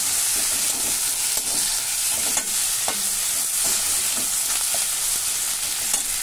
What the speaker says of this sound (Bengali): আলুটা মোটামুটি ভাজা ভাজা হয়ে গেছে